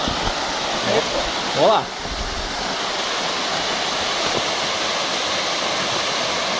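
Waterfall along a trail at Chapada Imperial, a steady broadband rush of falling water heard throughout, with a brief spoken remark over it early on.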